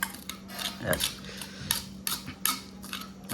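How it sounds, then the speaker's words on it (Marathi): A spoon scrapes leftover poha from a small kadhai in repeated short, scratchy strokes with metallic clinks, close and moderately quiet, with a faint hum underneath. "आपली छोटी कढई आहे ना ती अशी खरवडून खाणार आहे मी आता बघा."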